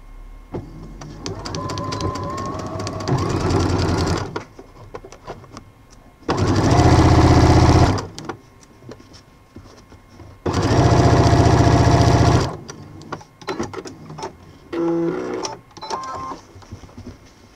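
A domestic sewing machine stitches bias binding onto fabric in loud, close whirring runs, a short start with backstitches and then two longer sustained bursts, separated by quieter handling noises and brief pauses.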